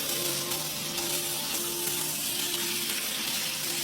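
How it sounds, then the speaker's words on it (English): Small pieces of steak fry in a pot over an outdoor stove in the wild, giving a steady, close, bright sizzle that holds unbroken throughout. "Bring steak and fry until medium rare, after cutting it into small pieces."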